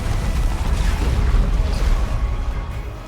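Orbital bombardment strikes land in a Dawn of War 2 battle between Space Marines and Tyranids, a dense, continuous rumble of booming explosions filling the whole stretch at high, steady loudness.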